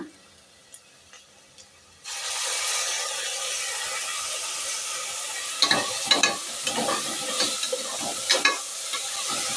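Ground masala paste sizzles steadily in a hot pan after a quiet start, with a few louder stirring scrapes breaking through the constant frying hiss near the end.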